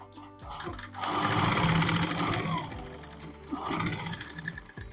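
A sewing machine stitches the neckline of a lined kurti in two fast, loud whirring bursts, close by, with a short pause between them.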